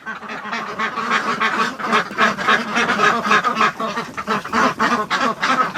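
Muscovy ducks penned indoors during a cold snap, quacking and calling busily in a dense, continuous chorus close by, with no talk over them.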